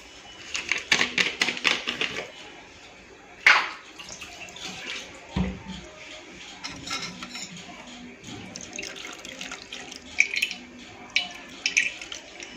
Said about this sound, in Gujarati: થોડું આપણે આમાં ઠંડુ પાણી એડ કરીશું।